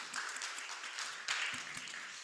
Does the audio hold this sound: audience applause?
yes